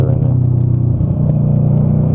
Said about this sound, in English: my first time riding the Ninja in a while